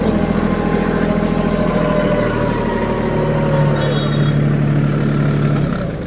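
A 26 HP Preet Avenger 4x4 tractor's Mitsubishi diesel engine idles steadily and loudly up close, a low chugging drone that holds throughout before dipping slightly at the very end.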